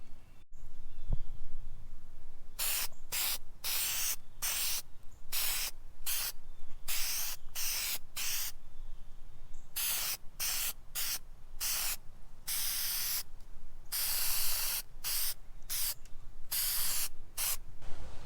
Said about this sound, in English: So let's get to spraying this.